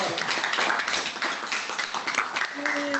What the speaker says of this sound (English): Shouldn't we at least have them on camera while we applaud them?